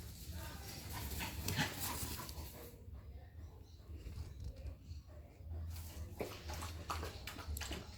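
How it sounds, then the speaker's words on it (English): A pet dog named Lottie barks in sharp, loud bursts indoors close by, with a few whimpers and panting between them, under a voice trying to calm it. "No need to bark."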